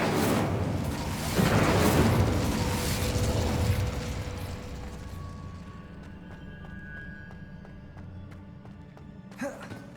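Incendio fire spell cast in Hogwarts Legacy: a loud roaring burst of flame that swells over the first few seconds, then fades into a softer crackling tail with a small pop near the end.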